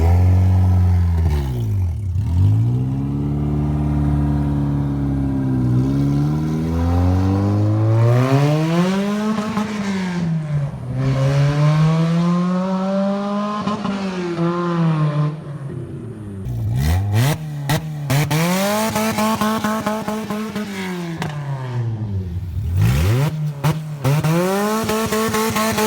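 A budget K-swapped Honda CRX EF being driven hard, its engine revving up through gears in repeated rising pulls with brief drops between shifts, loud and close, with occasional tire squeal.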